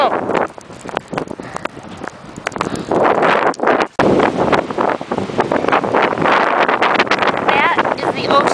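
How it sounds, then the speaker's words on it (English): Strong blizzard wind at Marconi Beach buffets the microphone in loud, gusty bursts over the roar of ocean surf on a snowy day, with a brief dropout midway. "That is the ocean on a windy, snowy day."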